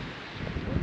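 Strong wind on the Fuego volcano roars as a steady, dense rush that buffets the microphone, swelling slightly toward the end.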